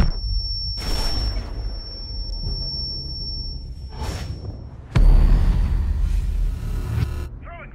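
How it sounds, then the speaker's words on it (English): A breach charge detonates in the Rainbow Six Siege video game: after airy whooshes and a high electronic tone, a sudden loud, booming blast hits midway and rumbles on briefly. "Breach charge hot."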